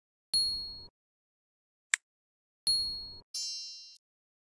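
Short digital chimes and clicks from a phone running the BCA Mobile banking app after an SMS is sent, four crisp separate blips in quiet with silent gaps between them.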